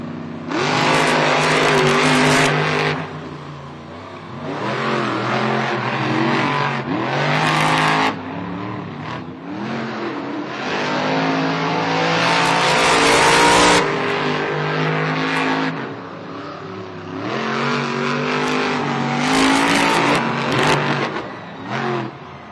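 Monster Jam monster trucks, including Gravedigger, racing in a San Diego stadium, with loud engines revving and roaring in repeated surges that swell and drop across the run, no voices over them.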